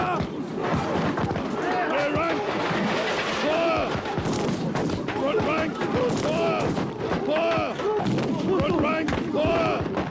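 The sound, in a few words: volley of rifle gunfire from ranks of soldiers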